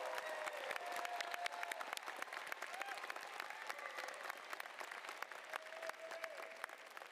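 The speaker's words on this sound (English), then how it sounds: "Please join me in applauding the tremendous achievement of these graduates." An audience applauds graduates at a university's natural sciences and graduate commencement: steady, dense clapping from a large crowd, sustained and even throughout.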